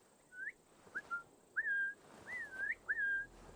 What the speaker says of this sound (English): I should probably not whistle on the mic.